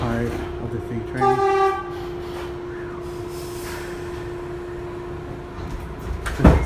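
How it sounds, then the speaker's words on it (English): R62 subway train on the elevated section of New York's 3 line sounds one short, loud horn blast over steady rolling rumble and rail noise, with a clank near the end. "The sounding horn."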